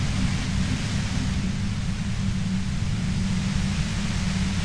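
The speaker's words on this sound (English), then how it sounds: "You hear through the white noise. It's especially bad suddenly." Steady, loud white-noise hiss with a heavy low rumble in the video game Disco Elysium, a continuous static wash running unbroken and alone.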